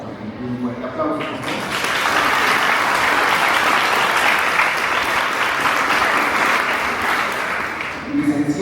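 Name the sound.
audience applause for a conference speaker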